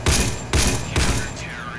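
M249 light machine gun firing in the Roblox shooter Counter Blox: three loud, close bursts about half a second apart, each with a sharp onset and short decaying tail.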